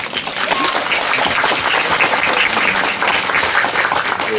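Loud, sustained audience applause at the opening of a culture club in Runowo, a thick wash of clapping hands filling the room evenly from start to finish.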